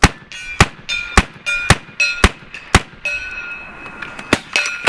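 A BIN TAC S45 semi-automatic air rifle, charged to 4500 psi, fires a rapid string of about a dozen sharp, loud shots, each followed by a ringing metallic clang of pellets striking a steel target.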